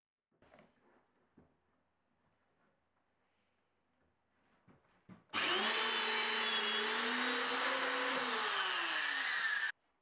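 A drill bores dowel holes in wood for a bandsaw stand, heard as a loud steady whine that runs for several seconds after some quiet handling clicks and taps.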